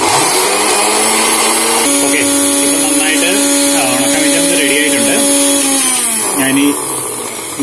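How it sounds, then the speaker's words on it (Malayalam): A mixer grinder runs loud and close while grinding dry fish chutney, its motor whine shifting pitch partway through and then winding down near the end. "മിക്സി നിർത്തുവാണ്"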